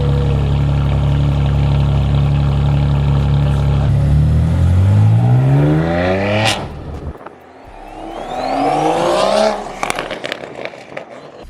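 A BMW engine with a downpipe exhaust and no catback idles loudly, then revs up in rising sweeps. Its pitch climbs and drops through several pulls, with crackles after the revs.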